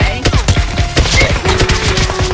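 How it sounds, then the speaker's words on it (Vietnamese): Dense rapid gunfire in the mobile battle royale game PUBG Mobile, overlapping bursts of loud shots cracking without pause, close and continuous throughout. "Trên đồi nó bắn xuống"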